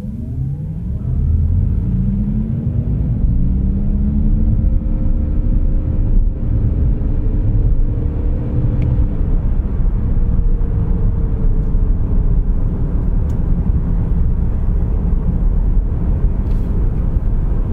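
A Mazda MX-30 R-EV drives in normal mode, its engine hum rising in pitch as it accelerates, then settling into a steady, loud rumble of cabin and road noise, with no talking.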